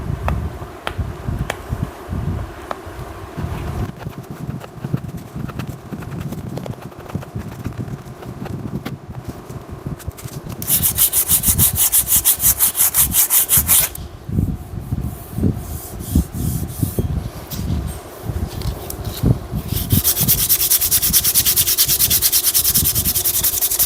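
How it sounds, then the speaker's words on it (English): Sandpaper rubbing steadily against a wooden vise part, a continuous close scratchy rasp in back-and-forth strokes that gets louder and harsher in two bursts. "I am almost done sanding."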